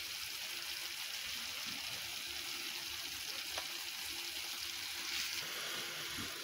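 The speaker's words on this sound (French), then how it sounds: "Voilà, donc je rajoute de l'eau." Water is added to a seafood tajine with whiting meatballs, giving a steady, faint sizzling hiss with a soft trickle underneath that holds level throughout.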